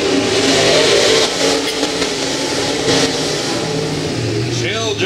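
A dirt track race car circling during qualifying at Humboldt Speedway, its engine roaring loud and steady, easing slightly midway, with an announcer talking over it throughout.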